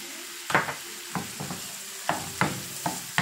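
Garlic shrimp sizzle in a pan after lemon juice goes in, a soft frying hiss broken by several sharp stirring scrapes at uneven intervals, close and without talk.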